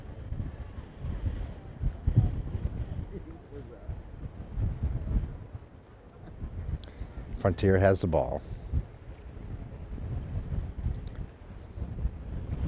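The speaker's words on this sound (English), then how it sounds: "A little bit of wind picking up, some gusts, some heavy gusts coming in right now." Gusty wind buffeting the microphone at an outdoor girls' varsity high school soccer game, low rumbling gusts rising and easing throughout, with a commentator talking over it and a brief whistle-like tone midway.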